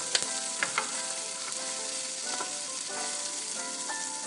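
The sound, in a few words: stirring oil in a frying pan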